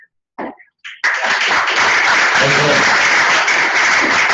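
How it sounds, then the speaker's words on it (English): At a birthday gathering of lightning talks, a few scattered claps quickly swell into full, loud audience applause that holds steady for several seconds, with some voices mixed in. "thank you for giving a round of applause to the Canadian"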